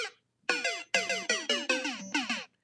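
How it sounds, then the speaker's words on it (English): Super Mario death jingle from the video game: a short chiptune melody of bouncy descending and rising note runs, played alone, loud and clear, ending abruptly after about two seconds. "That is the sound of Mario dying"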